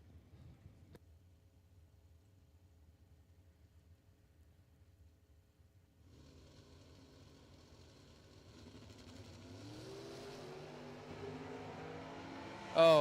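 Corvette drag race cars at a drag strip, heard at a distance, a quiet low rumble that swells into a rising engine roar as they launch and accelerate, climbing in pitch and loudness toward the end.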